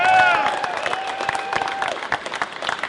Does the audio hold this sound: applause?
yes